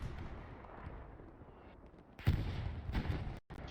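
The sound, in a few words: artillery fire falling in a video game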